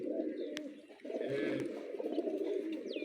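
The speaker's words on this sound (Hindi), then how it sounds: "कबूतर खूबसूरत पक्षी" Pigeons coo in low, steady murmurs close by, with a faint bird chirp and a few light knocks in the background.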